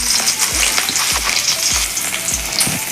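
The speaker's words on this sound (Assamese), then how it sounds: "আনফালে কেৰাহী পাতিত তেল দি দিছোঁ তেলখিনি গৰম" Onions fry in hot oil in a wok, a loud, dense sizzle that never lets up, with low bumps every half second or so as the pieces are stirred.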